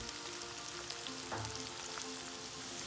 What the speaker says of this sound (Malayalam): അപ്പോൾ ചെറിയുള്ളിയും വെളുത്തുള്ളിയൊക്കെ നന്നായിട്ടൊന്ന് ഫ്രൈ ചെയ്തെടുക്കാം.